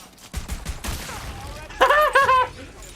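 A newly acquired gun fires in Tiny Tina's Wonderlands, a burst of quick shots followed by two louder, warbling tonal blasts, with a voice speaking over parts of it.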